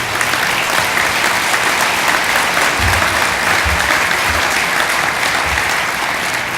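Sustained applause from an audience at a downtown civic address, honoring an outgoing police chief; steady dense clapping fills the room throughout with a few louder low thumps, no voices on top.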